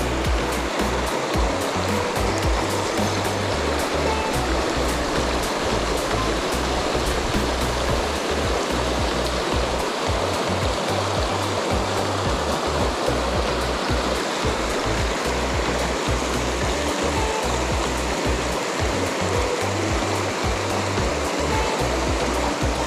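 Steady broadband rush of a river flowing, continuous and fairly close with no voices, the kind of water where sebarau are fished with topwater poppers.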